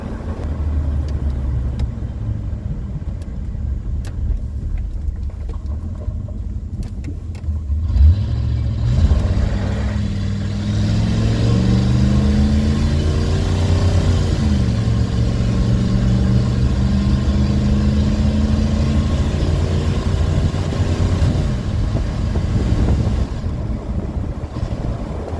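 Old OBS-generation Ford F150 pickup engine revving, a loud low rumble that climbs and falls in pitch through several throttle blips, heavy and close with wind buffeting and no talk.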